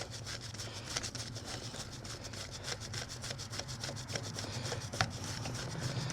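A motorcycle chain is scrubbed clean with a brush in quick, rhythmic back-and-forth strokes, a steady scratchy rasping that keeps going without a break and stays close and fairly quiet.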